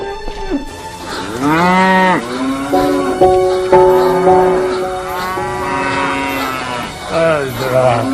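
Several cows moo loudly and close by on a farm, their long overlapping calls rising and falling one after another, with some talk mixed in.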